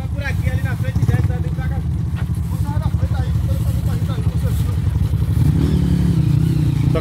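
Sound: motorcycle riding on a trail

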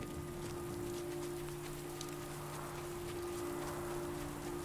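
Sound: rain in the video game Last Day of June

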